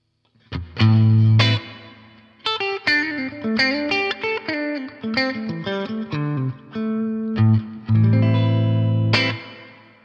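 Clean electric guitar through a Boss Nextone amp's hall reverb plays strummed chords and melodic runs, each note trailing into a wide, lingering hall-like reverb.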